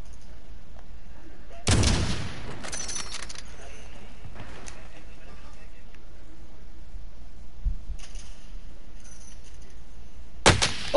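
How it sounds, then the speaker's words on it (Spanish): Video game gunfire: a loud burst of shots near two seconds, a few scattered fainter reports in the middle, and another sharp loud blast near the end, all over steady ambient game noise. "Me está disparando a mí"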